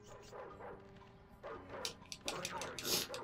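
Dogs in Ed, Edd n Eddy: The Mis-Edventures bark and yip in short bursts, somewhat faint and mixed with game sounds and a voice talking.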